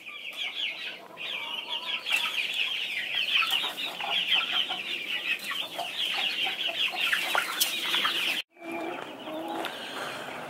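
Young chickens on a farm clucking and cheeping steadily as a chattering flock, close and continuous, with a brief break near the end, and no talking.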